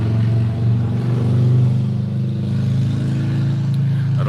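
A motorcycle engine climbs a hill, a steady droning hum with slight swells in pitch as it pulls, heard from a moderate distance with no voices.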